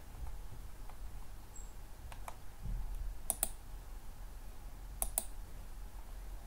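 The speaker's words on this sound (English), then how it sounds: "Click on download now" A computer mouse gives a handful of sharp clicks, some in quick double pairs, spaced over several seconds against a quiet room hush.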